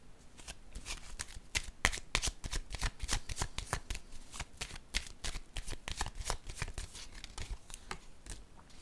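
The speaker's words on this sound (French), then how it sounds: "Je vais déposer une autre carte ici, en cette zone." Tarot cards handled, shuffled and laid down, making a dense, continuous close-up stream of crisp card flicks and riffling with no pauses.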